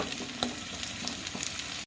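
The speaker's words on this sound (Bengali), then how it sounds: "এবার আমি দিয়ে দিচ্ছি আলুটা পেঁয়াজের সাথে ভেজে নেব।" Potatoes fry with onion and green chili in a pan for puti macher jhal, making a close, even sizzle with light stirring scrapes that cuts off abruptly at the end.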